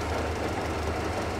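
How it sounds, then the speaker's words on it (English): Continuous rumbling rail car engine drone in the video game Metro Exodus, steady and loud, with a dense low throb and no pauses. "Oh, I can hear its engine."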